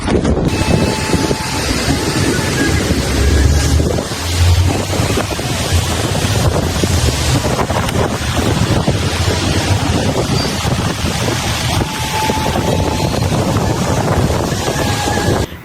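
Strong wind gusts batter the microphone steadily by the sea near the old city in Baku, with a roar of surf and water underneath. The wind is loud and continuous throughout.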